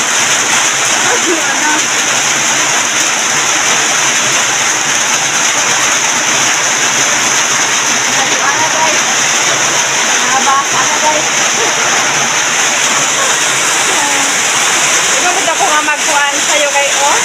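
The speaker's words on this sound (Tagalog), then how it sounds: "Nagkusok na rin ang ulan." Heavy rain pours steadily around a rural farmyard where chicken coops are being built, a dense continuous hiss with splashing throughout and faint voices underneath.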